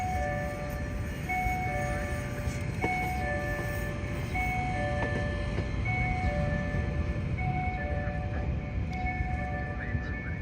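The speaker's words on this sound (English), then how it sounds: "There's another tram coming." Tram passing along a street in Tokyo, a continuous rumble of rail traffic with repeated steady electronic tones over it, constant and fairly close throughout.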